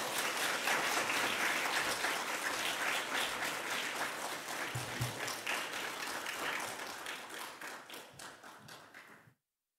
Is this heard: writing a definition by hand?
no